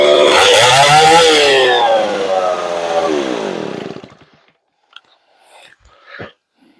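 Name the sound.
Stihl 041 chainsaw engine running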